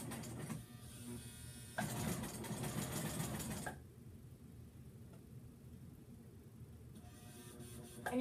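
A sewing machine stitches a circle of fabric onto the outside of a beer koozie, whirring steadily at close range. It runs in bursts, first louder, then briefly softer, then picks up again, with no talking.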